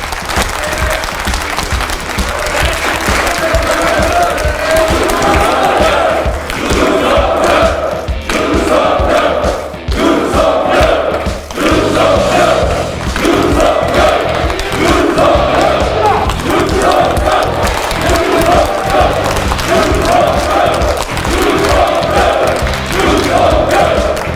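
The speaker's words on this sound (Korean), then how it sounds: "큰 박수로 함께 함께 해주시기 바랍니다" Party assembly audience of lawmakers breaking into long, loud applause with cheering, dense rhythmic clapping sustained close and steady throughout.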